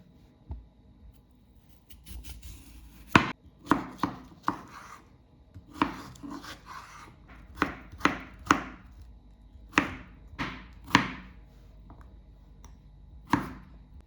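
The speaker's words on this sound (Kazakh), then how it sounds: "Ең алдымен мен қиярды 4 бұрышты ғып тураймын." A knife cuts cucumber into cubes on a board, sparse sharp knocks that start slowly and then come in loose irregular bursts, close and quiet in a still room with no talk.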